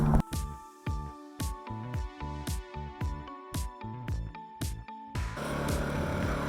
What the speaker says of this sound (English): Our air compressor is overpowering our generator